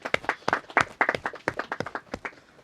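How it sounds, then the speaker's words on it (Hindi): Audience in a law class applauding a student, a short burst of scattered hand claps at an uneven rhythm, moderately close and fairly quiet, with no talking over it. "सुनीता के लिए तालियां बजा दें।"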